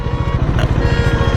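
A Bajaj Dominar motorcycle engine runs at idle just after a long self-start, a loud, close, rhythmic low thumping that stays steady throughout.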